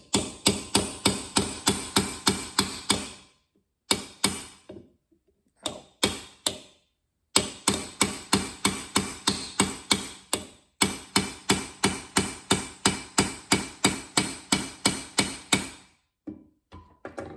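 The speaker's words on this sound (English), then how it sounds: "Let's see what happens when I start to hit it with the edge of this knife." A knife spine repeatedly strikes a quarter-inch steel rod: rapid, evenly spaced sharp metallic taps in bursts, loud and close, with short pauses between runs.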